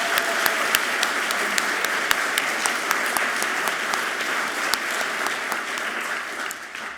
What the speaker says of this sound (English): how about another round of applause for these two wonderful women?